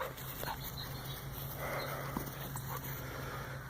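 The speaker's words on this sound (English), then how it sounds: "Just playing with my dog, throwing the ball." A dog pants and sniffs outdoors while playing with a ball, the faint, close breathing running continuously over a light open-air background.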